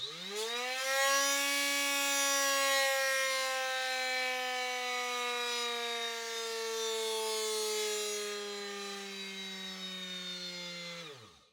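A cordless die grinder held under load on a dyno gives a loud, sustained high-pitched whine that sags slightly in pitch, then spins down sharply at the end.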